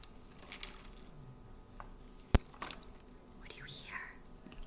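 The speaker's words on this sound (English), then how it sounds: "I hear shells hitting the side of the container." A shell strikes the side of a container with one sharp, close click partway through. Soft whispering and faint rustling fill the rest.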